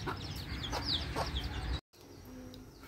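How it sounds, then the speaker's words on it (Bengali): Chickens cluck around a hen as she comes in with her chicks. Several short clucks sound close by, and a softer, quieter stretch follows a brief gap. "মুরগি ঢুকে যাচ্ছে বাচ্চা সহ"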